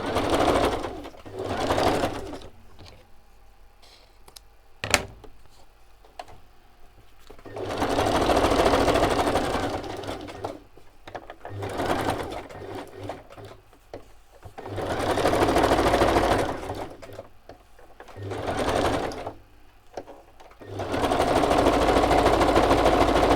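A sewing machine stitching in bursts, loud whirring runs of rapid needle strokes repeating several times with quiet pauses and small clicks between them.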